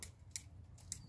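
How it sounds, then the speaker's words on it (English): Pruning scissors cutting a bonsai: three quick, crisp metallic snips, close and fairly quiet, evenly spaced within about a second over a faint low background hum. "These are my pruning scissors for fast pruning."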